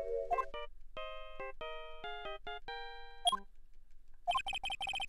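A cell phone in the Phoenix Wright video game plays the Steel Samurai theme as a ringtone, a clean electronic melody of sustained notes followed by rapid bright ringing pulses, loud and alone.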